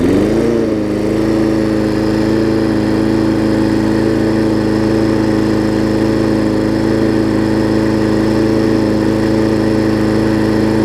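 A Briggs Quantum engine on an MTD push mower with bicycle wheels idles in a loud, steady, close drone that holds evenly throughout after a brief settling at the start.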